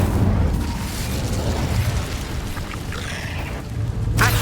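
Incendio fire spell in Hogwarts Legacy, set in a cave, as a sustained loud roaring whoosh of flame that rumbles steadily throughout and ends with a sharp burst.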